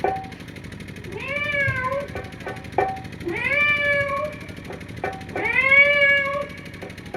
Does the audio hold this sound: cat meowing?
yes